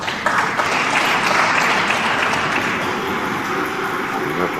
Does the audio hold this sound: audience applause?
yes